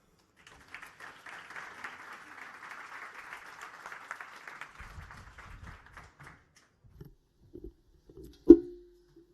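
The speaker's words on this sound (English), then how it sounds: "Give a warm applause" A conference audience at a film industry event applauds to welcome a speaker. The clapping is faint and thin, tapers off over several seconds, and is followed by a few handling noises and a sharp thump.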